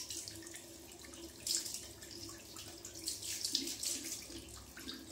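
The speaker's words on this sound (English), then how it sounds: "final rinse off" Water running from a tap during a rinse after shaving, a steady soft splashing stream with small bursts of louder splashes as hands move through it, fairly quiet and close.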